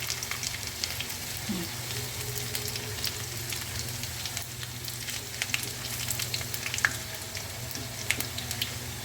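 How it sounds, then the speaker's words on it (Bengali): Bay leaves and cumin seeds frying in oil for masoor dal give a continuous soft sizzle close by, with a low steady hum underneath and occasional small pops and clicks; no one speaks. "আর একটু ভাজালে তেজপাতা দিয়ে দিই"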